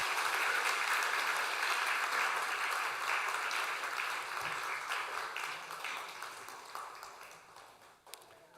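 A church congregation claps in congratulation for families baptized at a children's Sunday service, dense steady applause filling the hall, then gradually thinning and fading toward the end.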